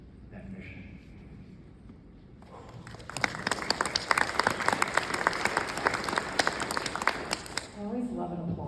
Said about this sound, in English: I always love an applause.